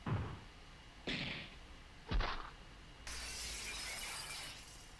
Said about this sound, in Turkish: Cam kırılma sesi mi geldi az önce?